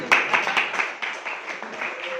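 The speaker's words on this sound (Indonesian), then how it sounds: "Tepuk tangan buat Adisti." Scattered clapping from a small audience at an Indonesian teacher-training performance assessment, a loose patter of hand claps with a few sharper hits early on, fading into a thinner, softer spread of claps.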